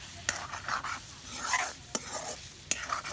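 Goat meat stirring and frying in a pan for an Eid feast: a steady sizzle runs throughout, broken by three sharp scraping clacks of a utensil against the pan, with no talking.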